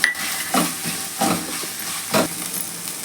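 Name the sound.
small onions and onion sautéing in a pan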